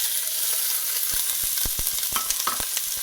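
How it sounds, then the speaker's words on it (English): Chopped onion sautéing in raw olive oil over moderate heat for a minestrone soup, a steady close sizzle with a handful of sharp spatula taps and scrapes against the pan. "The first thing is going to be the onion."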